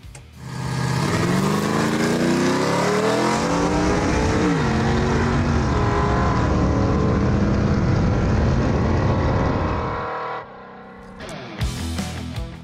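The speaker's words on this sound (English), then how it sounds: "we're ready to open up our exhaust cutouts for a major horsepower increase" A loud Ford Granada engine with exhaust cutouts open revs hard and holds a roaring, raspy pitch for several seconds before cutting off, followed by a brief burst of blips.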